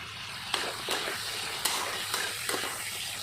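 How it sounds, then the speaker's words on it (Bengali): Goat liver and potato pieces fry in oil with a steady sizzle, broken by several sharp stirring scrapes spaced about half a second apart, close up with no talking. "এই মেটেটা আর হচ্ছে আলুটা একবার ভেজে নিই"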